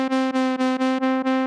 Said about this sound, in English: I'm going to modulate the fine tuning of the oscillator,